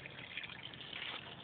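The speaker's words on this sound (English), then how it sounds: "But now we're adding water" Water poured into a car's radiator after a broken radiator hose has been temporarily repaired; a soft, steady gushing trickle runs continuously, fairly quiet and close, with no talking.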